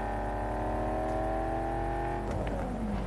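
Car in Cyberpunk driving with a steady engine drone, then a short scrappy burst of tire skid near the end, heard close with no talk over it.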